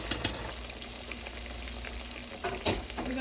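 Chicken pieces frying in very hot grease, a continuous close crackling sizzle with a few sharper pops and spatters, heard alone without talk.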